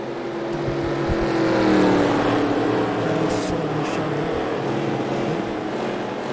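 NASCAR Racing 2003 stock cars at Daytona rolling in formation behind the pace car, a steady low engine drone from the field that swells slightly midway and holds without a break.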